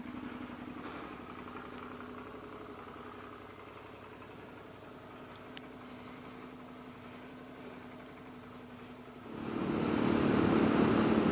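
A Suzuki V-Strom motorcycle engine idles steadily with a low, even hum, then swells louder near the end as it pulls away on a test ride.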